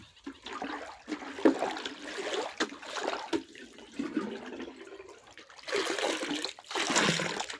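Water pours and splashes into a tin as it is filled from a small tank, coming in uneven bursts and trickles with brief pauses between them.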